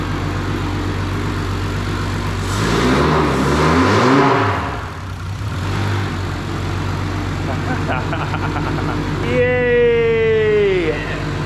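A built Nissan Skyline R33 engine with a spinning turbo revs up and settles, rising once to a loud peak, falling back to a steady idle, then surging again near the end while voices talk over it.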